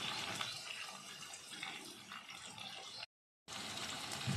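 Water runs and splashes into ground ginger, chili and cumin spice paste, a steady gushing pour that cuts out briefly, then resumes at full strength.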